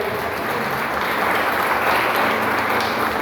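Dense applause from a church congregation at a Lord's Supper service, a steady wash of many hands clapping together, loud and unbroken throughout.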